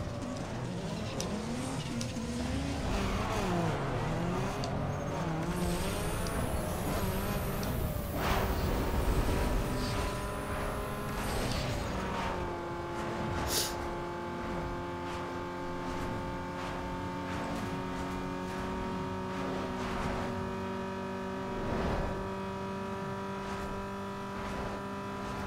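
Cars in Need for Speed Underground 2 race past with revving engines and tire noise, then settle into steady droning engine tones, loud and continuous throughout with no talking.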